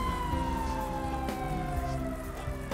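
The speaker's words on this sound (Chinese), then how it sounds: "这附近有警车在，应该不是在追我吧？" A police car siren in GTA 5, a loud wailing tone that slowly sweeps downward, heard close over a low engine rumble.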